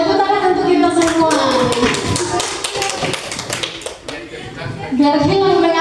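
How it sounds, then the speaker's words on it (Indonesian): A classroom group of teachers or students clapping hands together in a session on positive school culture, brisk overlapping claps with chatter and laughter mixed in, loud and close throughout. "Tepuk tangan untuk kita semua."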